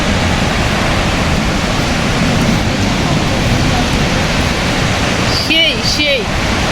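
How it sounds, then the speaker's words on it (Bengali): Burney Falls waterfall, water rushing down in a loud, constant roar heard close up and filling the whole stretch, with brief voices near the end. "দেখো ওয়াটারফলের জলটা এইদিকে চলে আসতেছে, দেখছো?"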